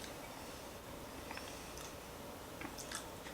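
Someone eats French bread spread with butter, the close, quiet, moist chewing running steadily under a low background hiss, with a few small soft crunches.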